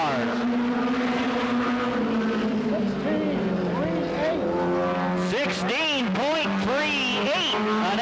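A 1988 Goody's Dash stock car runs a qualifying lap at Anderson, South Carolina, its engine droning loud with repeated rising and falling sweeps as it passes, while an announcer talks over it.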